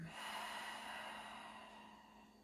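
Steady deep breathing during a mellow hatha yoga session for hips and shoulders, a single long soft exhale of airy breath close to the microphone with no talking.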